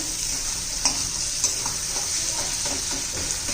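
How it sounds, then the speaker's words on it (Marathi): Tomatoes fry and are stirred in hot oil in a pan, a steady close sizzle with a few soft scraping clicks of the spoon. "छान असं तेल सुटले पहा टोमॅटो पण आपला चांगला परतून झालेला आहे"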